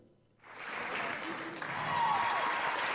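A crowd at a live-streamed acoustic guitar performance bursts into applause, rising quickly from near-silence and holding a steady, full clapping wash for more than two seconds.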